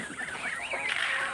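Young chickens crowd a feeder at a rural yard in the morning, giving short, busy clucks and squawks at close range with a soft rustle of movement.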